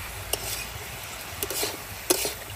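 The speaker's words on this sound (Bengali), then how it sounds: "পেঁয়াজটা গলে যাবে, তাহলে লবণ, খুব অল্প তেলে রান্না করছি" Onions cooking in a little oil in a pan at an outdoor winter picnic, a faint sizzle under several sharp scraping and stirring clinks of a utensil against the pan.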